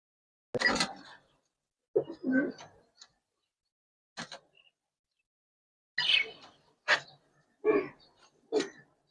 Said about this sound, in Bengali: দোনোটা কবুতরই ভাই রেয়ার কবুতর